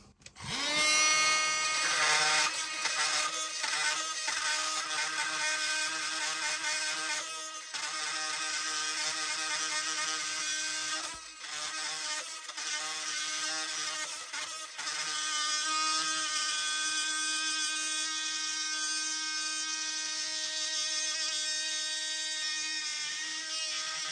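A multitool fitted with an Ozark metal-cutting blade saws into metal, making a loud, steady, high buzzing whine. The whine runs almost without a break, dips briefly once or twice, and nobody talks over it.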